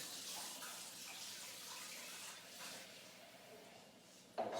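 Warm water runs from a kitchen tap in a steady, faint hiss, splashing softly for several seconds before a brief sharper clatter near the end.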